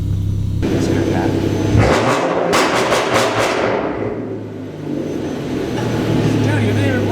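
A BMW E36 M3 engine idles just after starting, a steady close rumble that briefly rises in pitch and falls back, with a few sharp clicks and knocks over it.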